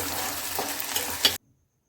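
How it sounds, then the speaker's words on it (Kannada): Onions sizzle and fry in a pan for kaju masala curry, a close, steady crackle with a stirring scrape, cut off abruptly into silence. "ಚಲೋತ್ನಾಗ ಎಲ್ಲ ಹಸಿ ವಾಸ ಹೋಗೋ ತಕ್ಕನೂ ಫ್ರೈ ಮಾಡ್ಬೇಕು ನೋಡಿರಿ"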